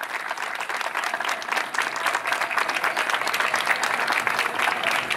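A crowd claps steadily and loudly for several seconds, a dense, even wash of applause with no talking.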